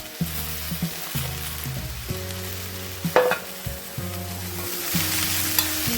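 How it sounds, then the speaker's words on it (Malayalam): Prawns sautéing in a pan with chopped tomato, green chillies and curry leaves, a close continuous sizzle with bursts of stirring and scraping over soft tonal background music. "ഇനി ഇതിനകത്തേക്ക് ഞാൻ ഒരു ചെറിയ തക്കാളി അതൊന്ന് കട്ട് ചെയ്തതും 2 പച്ചമുളകും കുറച്ച് വേപ്പിലയും കൂടെ ഇട്ട് കൊടുക്കുന്നുണ്ട്"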